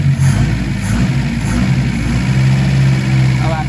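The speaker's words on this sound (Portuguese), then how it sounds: "Deixa eu acelerar pra ver se ele vai cair" A carbureted car engine tuned with a wideband sensor, revving and holding at a raised speed with a steady, loud mechanical drone and slight fluctuations, close to the microphone.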